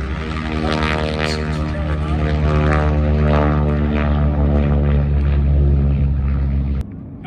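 A racing propeller airplane passes at the National Championship Air Races in Roswell, New Mexico, its loud droning engine roar building, holding steady, then cutting off sharply near the end.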